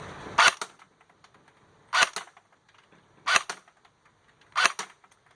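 Four sharp shots from a Lancer Tactical LT-19 airsoft rifle, Gen 2 LT-19TL, fired at spaced intervals of a little over a second, each a loud crisp crack with a short tail, alone with no talk.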